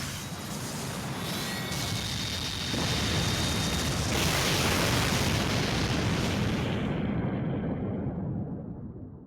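A roaring explosion rumbles from the Fate/Grand Order game, a sustained loud blast of broadband noise that swells midway and holds before tapering off, with a faint high tone in the background.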